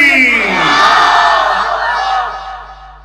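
A large crowd at a Bangla Islamic sermon gathering roars the takbir together in one loud, sustained collective shout that holds for about two seconds before fading.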